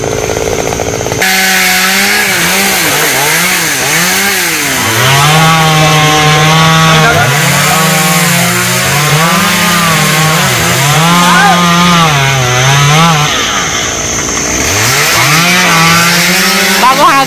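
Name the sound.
chainsaw cutting laurel trees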